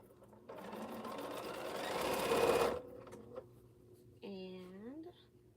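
A sewing machine runs in a quick, steady burst of rapid stitching while quilting, then stops; a short motor whine follows, and faint talk sits in the quiet gaps.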